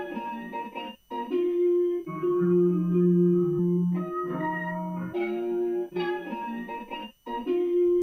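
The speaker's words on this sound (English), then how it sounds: "Then I have this guitar texture" A processed guitar texture sample for a dark experimental beat, with layered droning tones and a low sustained hum, pulsing in short phrases separated by brief gaps, with no talking.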